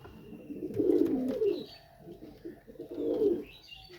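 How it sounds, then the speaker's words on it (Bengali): Domestic pigeons coo in two clear, rolling bursts close by, a long murmuring call followed after a pause by a second, with faint chirps and light background noise between them. "এই দেখেন পায়রা"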